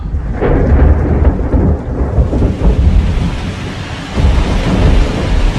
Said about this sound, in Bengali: সেদিন সন্ধ্যের পর থেকে মুষলধারে বৃষ্টি নামল।